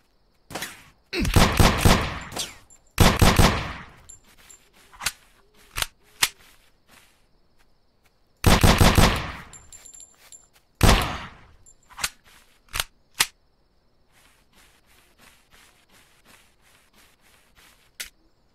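Repeated pistol gunshots from the video game Drive 4 Survival, loud sharp cracks in irregular bursts of two or three, separated by quieter gaps with faint thumps and footsteps.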